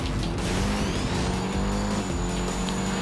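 Car engine in the Driver: Parallel Lines video game held at full throttle, a loud continuous roar with a steady harmonic drone and rising whine, close and unbroken for the whole stretch.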